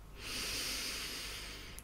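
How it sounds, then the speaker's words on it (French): A single slow inhale drawn in through the nose during a relaxation exercise, a steady soft airy hiss lasting over a second, close and quiet with no talking over it. "inspire par le nez"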